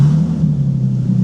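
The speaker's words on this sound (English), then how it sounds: "is actually I need to start the car" A Bentley engine runs with a steady, loud low rumble and a constant idle hum that holds evenly from start to finish, with no talking over it.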